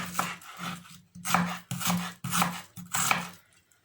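Knife chopping onion, carrot and potato on a board in five or six distinct bursts of rapid cuts, close and fairly quiet, separated by short pauses.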